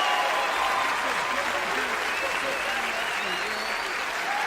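Stand-up comedy audience clapping in a steady, dense wash, while a voice talks over it throughout.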